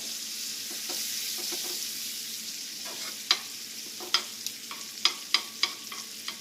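Garlic sizzles softly in a pan over medium-low heat, a quiet steady fry broken by a few sharp stirring clicks toward the end.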